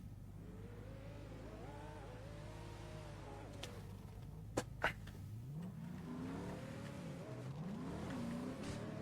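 A car engine revs repeatedly, its pitch rising and falling in smooth sweeps, fairly quiet overall, with two short sharp clicks in the middle.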